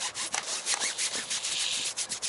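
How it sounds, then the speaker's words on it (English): Fine detail brush scrubbing the dirty convertible top welting of a 1957 Chevy Bel Air during a foam wash: rapid, close, bristly rubbing strokes in a quick back-and-forth rhythm, with no voices. "So I got some of my finer detail brushes here. We're gonna try to get in there"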